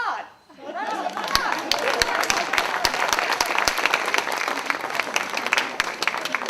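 Audience applause at a community gathering of local Mexican arts organizations, a steady wash of clapping from a crowd with sharper individual claps standing out, rising after a brief lull and holding loud throughout, with chatter mixed in.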